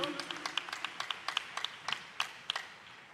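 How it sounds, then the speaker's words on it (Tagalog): A congregation applauds during a church sermon, a burst of sharp, fairly close claps in an uneven rhythm running under a preacher's voice. "Isang malakas na palakpak para sa ating mahal na Panginoon"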